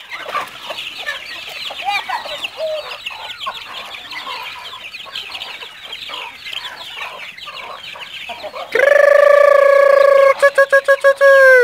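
Farmyard chickens cluck and chatter close by while feed is tossed to them, a busy overlapping flock for several seconds before a loud electronic tone cuts in at the end.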